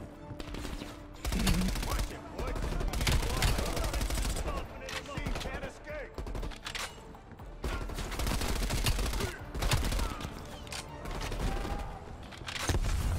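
Rapid automatic gunfire in the Call of Duty Black Ops Cold War campaign, repeated bursts and sustained volleys with booming reports, loud and dense across the whole stretch, with brief lulls between salvos.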